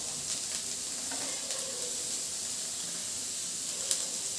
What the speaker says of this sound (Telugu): అలాగే క్యాబేజ్ కూడా వేసుకుందాం, క్యారెట్, బీన్స్ కూడా వేస్తున్నాను,